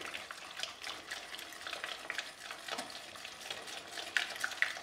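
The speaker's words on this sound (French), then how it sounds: "Et on mélange bien comme il faut" Grated courgette batter with eggs and milk being stirred in a bowl, giving quiet, continuous wet stirring and light scraping with small clinks near the end, close by and soft, with no speech.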